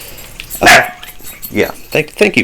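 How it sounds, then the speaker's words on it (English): A pet dog barks loudly nearby in several sharp bursts spread across a couple of seconds, with someone speaking briefly between the barks. "That's my dog."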